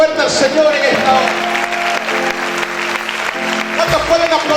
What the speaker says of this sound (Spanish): ¿Cuántos pueden aplaudir fuerte al Señor en esta hora?